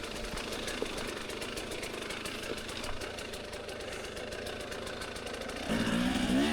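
A dirt bike engine revs hard while struggling up a hill, a steady mid-pitched buzzing drone with a rough pulsing texture that swells louder and higher in the final second.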